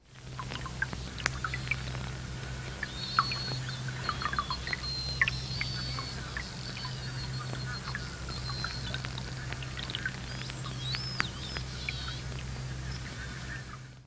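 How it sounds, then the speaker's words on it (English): Beluga whale calls recorded underwater, a mix of high chirps, squeals and whistles with scattered clicks and water-droplet-like pulses over a steady low rumble, continuous and moderately faint. "they actually called it a sea canary because of the nature of its chirping"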